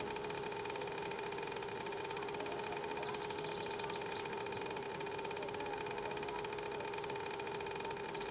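Boat engine running in the adventure game Secret Files 2: Puritas Cordis, a steady droning hum with constant tonal bands, even and unbroken throughout, with no talk over it.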